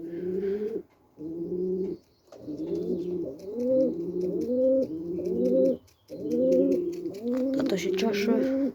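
Several pigeons coo in repeated throaty phrases, close and fairly loud, with short pauses between bursts; a brief flutter-like rustle comes near the end, and faint chirps sit in the background.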